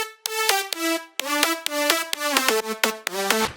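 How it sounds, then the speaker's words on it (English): Bright synth leads widened with stereo enhancers in an electronic music mix, playing a quick staccato melody of rich, buzzy notes stepping up and down in pitch, loud and upfront with nothing else around them. "After adding stereo enhancers to each lead, it started to sound like this."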